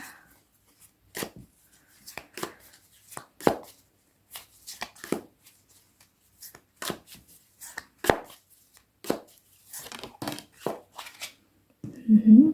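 Tarot cards shuffled and pulled from a deck, a run of crisp papery flicks and snaps spaced irregularly, close and fairly quiet, ending with a short denser rustle.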